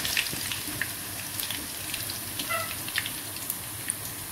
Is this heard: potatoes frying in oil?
yes